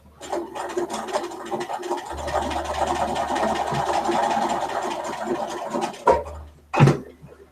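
A sewing machine stitches a quilt block in steady, continuous bursts of mechanical whirring and rattling at close range, then stops; two short, sharp knocks follow near the end.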